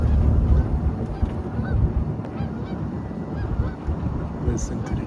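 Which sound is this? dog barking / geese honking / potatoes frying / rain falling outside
geese honking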